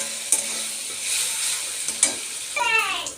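Tomato paste and spices sauté in hot oil for a raw katla fish kalia, with a steady sizzle and a few sharp stirring scrapes of a spoon against the pan, close and alone.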